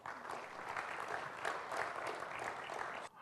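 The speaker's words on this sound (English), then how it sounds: "I want to welcome him with a great round of applause" An audience at a corporate debate event claps steadily to welcome a business leader onstage, a full, even round of applause lasting a few seconds before fading.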